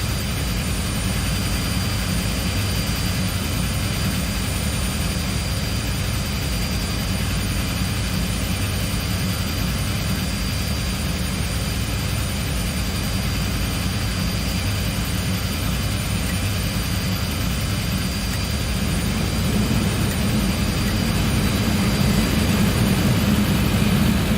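A de Havilland Twin Otter's engines drone steadily in Microsoft Flight Simulator 2020, a dense low rumble with a faint high whine that stays nearly constant, easing slightly as RPM drops and swelling a little near the end.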